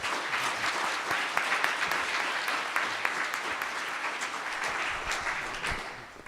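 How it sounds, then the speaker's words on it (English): An audience applauds a panel at an equity discussion event, steady dense clapping from a crowd sustained throughout, fairly distant and even, fading slightly at the end. "can we all give a big round of applause for our panel one more time?"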